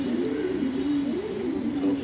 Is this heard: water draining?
no